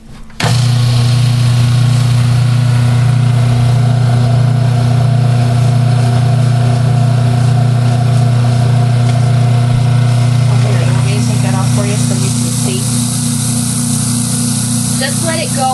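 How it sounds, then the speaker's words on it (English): An electric grinder runs on cocoa powder for a Mexican hot chocolate mix, giving a loud, steady motor whir that holds for about fifteen seconds and shifts slightly in tone toward the end. "Then we're going to put the lid on it and grind it up."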